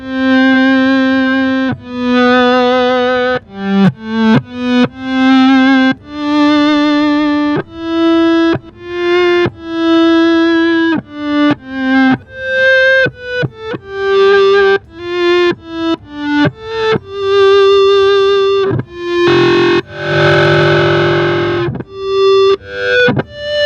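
An electric guitar through an Electro-Harmonix fuzz pedal with volume, tone and fuzz controls plays a string of sustained, buzzy, violin-like notes, separated by short gaps, loud and upfront with no talk.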